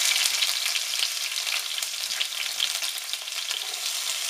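Garlic and peppers fry in hot oil for Spanish rice, giving a steady, close, loud sizzle and crackle throughout, with no talking.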